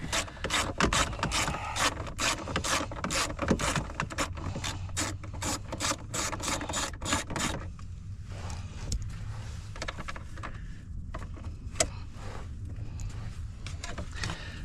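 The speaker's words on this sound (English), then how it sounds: "we'll take that bolt off and we'll take that cover off" Ratchet wrench clicking as it loosens the bolt on a Nissan cabin air filter cover, a fast loud run of close clicks for about seven seconds, then slower, softer ratcheting with small knocks.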